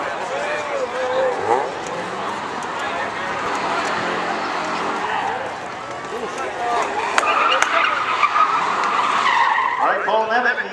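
A Firebird launches at a spectator drag race at Seekonk Speedway, a loud, close burst of engine roar and tire noise that swells toward the end while an announcer talks over it.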